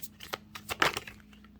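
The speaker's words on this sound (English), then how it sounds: "So one more shuffle from this deck." A deck of tarot cards being shuffled in a quick burst of soft riffling flicks and slaps lasting about a second. The sound is close and quiet, with no speech over it.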